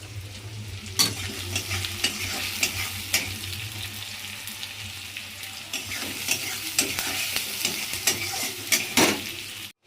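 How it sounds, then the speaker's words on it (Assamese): Onions frying in a pan for a tilapia fish curry, a steady close sizzle punctuated by repeated spatula scrapes and knocks, with a low hum underneath and no voices. "পিঁয়াজ প্ৰায় আধা ভজা হৈ গৈছে"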